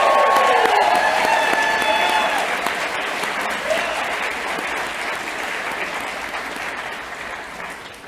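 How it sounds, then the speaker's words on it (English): Sustained applause from a commencement crowd honoring the graduating class of 2023 at an occupational therapy convocation, full and steady at first, then slowly thinning out, with faint voices and cheers mixed in. "Let's give them a well-deserved round of applause"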